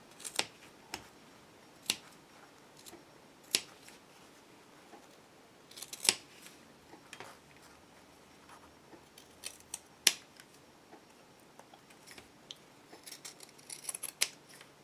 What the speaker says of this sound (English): take my fabric scissors and just cut these corners off so that it's easier to turn inside out or outside in